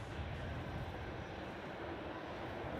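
An A321 freighter on approach to Melbourne Airport makes a steady, broad jet roar from a distance, constant and unbroken throughout.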